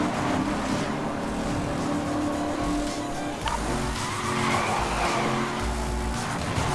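Racing game car crash takedown in Need for Speed Most Wanted: a steady loud engine roar with tire squeal and skidding, a brief impact-like jolt midway, then the engine drones on.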